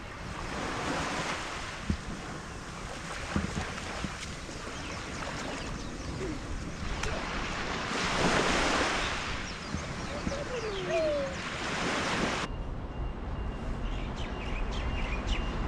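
Ocean waves break and wash onto a beach at a Hawaii resort in repeated broad surges, with wind buffeting the microphone and a voice faintly audible.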